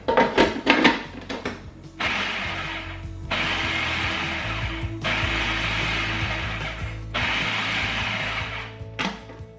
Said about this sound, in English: I'm gonna put it in my food processor, and I'm just gonna pulse it until it's like maybe a little bit bigger than rice consistency